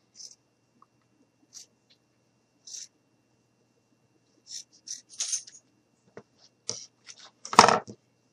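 Scissors cut through a fabric shirt sleeve to make a gnome hat in a quiet room: sparse, crisp snips spaced a second or so apart, then a quicker cluster ending in one louder, crunchier cut.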